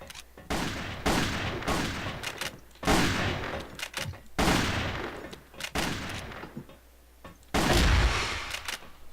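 Sniper rifle fire in the Crossfire video game: loud, sharp single shots crack out one after another at uneven intervals, each with a short echoing tail, and a heavy boom near the end.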